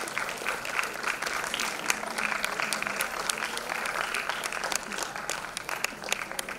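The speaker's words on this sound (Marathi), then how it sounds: "टाळ्यांचा ओघ फार कमी ऐकू येतो." Audience applause at a women's arts honour ceremony, an even patter of many hands clapping, moderately loud and continuous with no talk.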